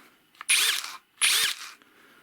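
Tekhnann TCD-65/i20 BS brushless cordless drill running in drill mode, two short whirring bursts of roughly three quarters of a second each, close and loud, separated by a brief pause.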